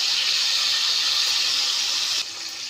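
Tap water pours steadily over boiled pasta being rinsed in a kitchen sink, a close, even hiss of running water that drops in level near the end.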